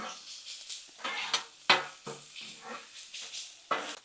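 Italian sausage and bacon fry on a Blackstone griddle, with soft sizzling punctuated by scraping and stirring strokes of a metal spatula, close and moderately quiet.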